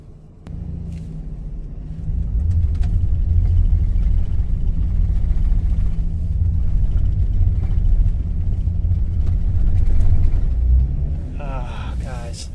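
A DIY camper van's engine drones and revs loudly and steadily as its wheels slip and spin on a snowy, icy mountain road on a subzero night, a continuous close rumble throughout.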